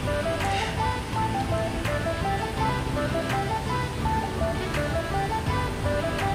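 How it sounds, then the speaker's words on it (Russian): The Iguazu Falls in Argentina, a chain of cascades dropping 60 to 80 metres, give off a steady, unbroken roar of rushing water, with tonal music layered over it. "Планета воды, грохочущих со всех сторон, и у вас под ногами водопадов."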